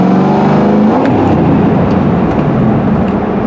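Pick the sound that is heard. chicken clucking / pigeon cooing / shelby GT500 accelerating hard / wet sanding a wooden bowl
shelby GT500 accelerating hard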